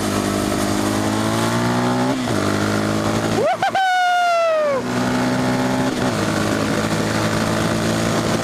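A quad bike's engine revs up and accelerates in rising, whining pitch sweeps over a constant loud roar, with a brief dip in between and people talking over it.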